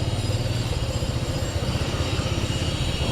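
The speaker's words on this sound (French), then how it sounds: "Finalement, la moto arrive." A motorcycle taxi pulls up on a street in India, its mid-pitched engine running steadily and fairly loud against constant traffic noise, with no voices.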